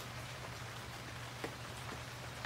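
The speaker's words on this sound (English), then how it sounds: "It's been a lot of fun listening to the rain and the birds." Morning rain falling outdoors, a soft steady hiss of drops on surfaces with a few louder nearby drips, fairly quiet and even.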